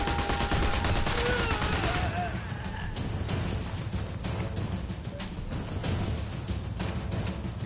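Live-ammunition gunfire in a video game, a dense burst of rapid shots early on that thins into scattered, continuing reports over a steady background, with a voice talking at times.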